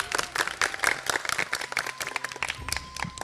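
Audience at an Independence Day youth event clapping for themselves, a dense burst of loud, close applause that runs steadily for a few seconds with no talk over it.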